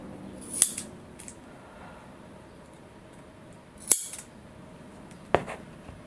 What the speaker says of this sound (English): I got a roll of double-sided tape. I'm just going to cut a little